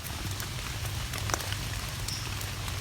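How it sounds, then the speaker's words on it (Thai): Rain falling in a forest, steady dense patter of drops with a low rumbling undertone, continuous and close. "ฝนยังตกอยู่เลยครับ"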